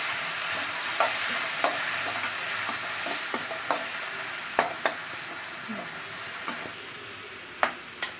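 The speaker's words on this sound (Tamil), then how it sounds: "இப்போ நம்ம தக்காளியை வந்து இது கூட போட்டுக்கலாம் இதில் நம்ம மசிச்சுக்கலாம்" Tomato is sautéed and mashed in a pan of sprouted horse gram dal, a steady sizzle of frying with repeated sharp clicks and scrapes of a spoon stirring against the pan, close and alone.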